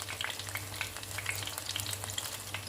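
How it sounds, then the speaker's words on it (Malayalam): Fish frying in a pan over a low flame, Kerala style, giving a steady close sizzle with faint crackles and pops throughout, no voices. "അപ്പോൾ നമുക്ക് നന്നായിട്ട് ലോ ഫ്ലെയിമിലിട്ടതിന് ശേഷം നമുക്കിത് വറുത്തെടുക്കാം"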